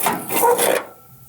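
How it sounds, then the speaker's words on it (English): A hammer is rubbed across paper to trace the outline of a wall stud, a short close scratchy rasp lasting under a second before fading to quiet. "we're gonna use the hammer to trace the outline of the stud"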